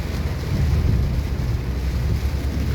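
Heavy rainstorm with thunder, a dense continuous roar of rain and low rumbling that swells and holds steady, near and loud, with no voices.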